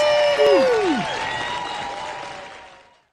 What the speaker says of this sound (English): let's give production a round of applause